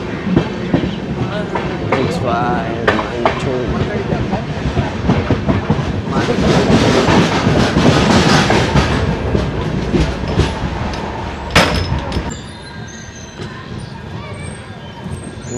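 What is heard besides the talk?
Hampi Express train running on the tracks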